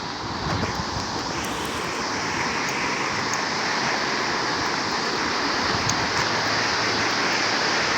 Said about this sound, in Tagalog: Ito, mas malakas yung agos dito.